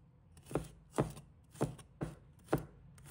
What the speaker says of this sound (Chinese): 我们再准备一把大蒜，把它切成小块。